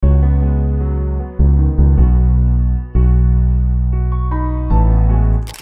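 Piano and bass MIDI parts from a lofi bass preset play together in FL Studio, with sustained low bass notes and piano chords changing in clear blocks for several bars, alone with no talk.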